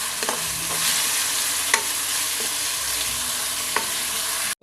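Freshly sautéed alamang shrimp paste with onion stirred in a pan over low-medium heat: a steady sizzle with a few scraping utensil taps, close and without voices.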